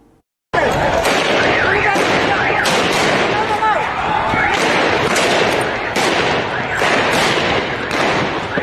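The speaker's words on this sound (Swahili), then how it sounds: "Milio ya risasi na vitoa machozi vilishuhudiwa huku wengi wakikimbilia usalama wao mjini Eldoret" Repeated sharp gunshots crack out in scattered bursts over a loud, continuous crowd commotion during unrest in Eldoret town, with tear gas fired.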